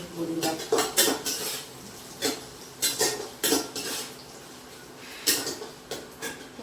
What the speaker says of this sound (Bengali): একটু চিনি দিয়ে নারকেলটা একটু ফ্রাই করছি